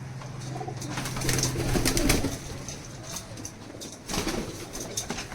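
Pigeons coo softly amid a busy loft of about seventy-five pairs, with occasional rustles and wing flutters, steady low murmuring throughout.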